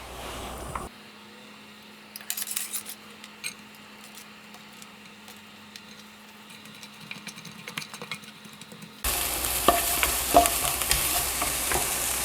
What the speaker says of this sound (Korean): 기름을 살짝 두르고 채소들을 순서대로 볶을 겁니다